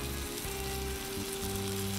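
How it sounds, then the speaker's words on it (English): Pork chops sizzle on a Blackstone flat-top griddle, a faint, steady crackling hiss with a low hum underneath that continues for a couple of seconds. "Look at that sizzle."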